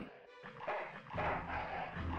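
A hellhound-like dog in the game Full Throttle: Remastered barks and growls in short, rough bursts, close and fairly loud, with a synthetic, game-like quality.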